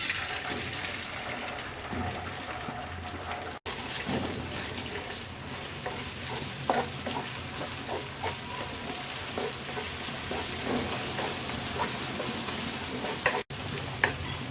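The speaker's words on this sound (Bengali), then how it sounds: "তেলটা গরম হয়ে গেছে, ডিমটা দিয়ে দিচ্ছি।" Beaten egg fries in two tablespoons of hot oil in a wok, giving a steady, soft crackling sizzle with occasional scraping and stirring sounds.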